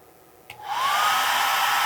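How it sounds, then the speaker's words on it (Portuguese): A hair dryer switched to full power while running off a TSM 2500W voltage inverter: a click, then a rising whoosh that settles into a loud, steady airy roar. "Ligar aqui o secador de cabelo no máximo da potência dele"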